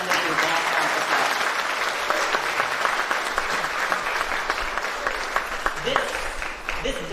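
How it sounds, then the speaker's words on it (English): An audience at the opening ceremony of a new Hindu social and cultural organisation building applauds warmly, a dense, sustained wash of clapping from many people filling the hall, with voices beneath. "I would like you to please give a round of applause to our Guruji, our Dharmaputra Pandit Vishwa"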